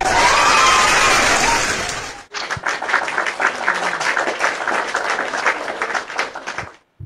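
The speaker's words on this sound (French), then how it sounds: "je m'applaudis" A burst of broadband noise gives way to several seconds of dense, scattered hand clapping at a moderate distance, which then fades out.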